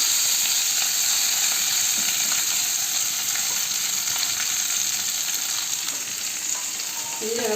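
Spinach greens fry in a hot pan, giving a steady, dense sizzle that holds evenly throughout with faint clinks near the end; no voices are heard.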